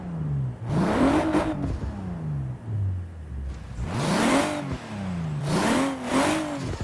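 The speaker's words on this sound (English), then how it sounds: "You can really hear the turbochargers underneath those bonnet." A BMW M2 twin-turbo engine heard from inside the cabin: three rising and falling revs that climb smoothly, drop back, then build again, loud and close with a whirring edge.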